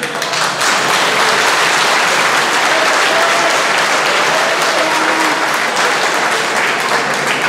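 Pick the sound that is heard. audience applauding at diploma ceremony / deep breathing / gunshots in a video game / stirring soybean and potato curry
audience applauding at diploma ceremony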